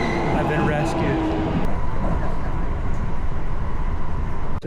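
Train pulling in at a small platform in the Japanese suburbs, a loud close rumble and rolling rattle with brief squeals, while a person talks over it.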